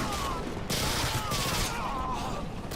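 Dual Glock pistols fired akimbo in the video game Modern Warfare 2: quick bursts of rapid shots over a tonal game soundtrack, loud and close, with no talking.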